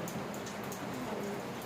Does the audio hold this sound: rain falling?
yes